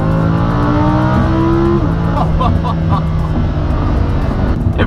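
A Lamborghini V10 sports car revs hard, its loud engine climbing, dropping briefly, then rising again in raspy bursts, close and sustained with no talk.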